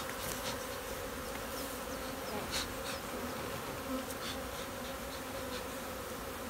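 Dense, steady buzzing of many honey bees swarming close by at the hives, a continuous drone that fills the whole clip without pause.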